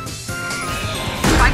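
A trap is destroyed in the video game Valorant, heard as a sharp smash with a noisy crash burst rising near the end of the short clip.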